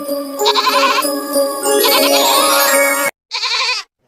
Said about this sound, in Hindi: यह तो बकरी के चिल्लाने की आवाज है